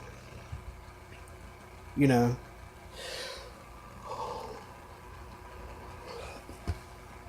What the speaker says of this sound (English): Excuse me for yawning